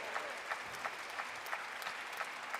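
A crowd applauds a table tennis men's round-of-16 match at Singapore Smash 2022: dense, steady clapping at moderate distance with brief sharper bursts throughout.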